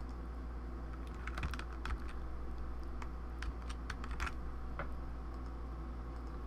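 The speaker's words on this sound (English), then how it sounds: "I'm going to use the Control-Alt-Z keys here." Computer keyboard keys clatter in quick irregular bursts during photo editing work, close and fairly clear over a steady low hum, with no talking.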